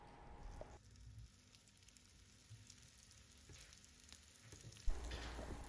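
Cutlets frying in oil in a paniyaram pan, a steady close sizzle and crackle running throughout, growing louder and harsher near the end.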